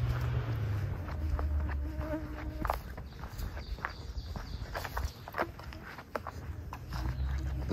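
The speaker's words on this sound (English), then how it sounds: "gnats are out bad today." Gnats buzzing close around the microphone on a woodland trail near Whistling Arch in Kentucky's Red River Gorge, a thin whining hum rising and fading over faint footsteps and rustling.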